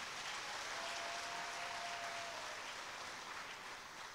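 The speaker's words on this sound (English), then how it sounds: "Give yourselves a round of applause." Steady, distant applause from an anniversary gathering of the People's National Movement, a continuous dense patter of many hands, fairly faint throughout.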